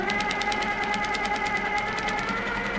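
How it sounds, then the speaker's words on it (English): A longarm quilting machine stitches at a fast, even pace, its dense mechanical rattle running steadily and close without a break. "So yeah, I'll stitch out there."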